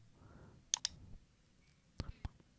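A computer mouse clicks on a Windows 11 PC in close, crisp bursts: a quick double click, then a pause, then three sharp clicks near the end, over a quiet background.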